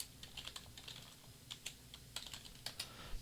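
Quiet keystrokes on a computer keyboard type a terminal command, short irregular clicks in small bursts, close and faint with no talking.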